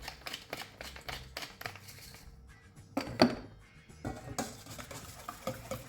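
Quiche filling with freshly ground black pepper whisked in a bowl, a fast run of light clicking strokes with a brief pause in the middle, close and fairly quiet, no talk.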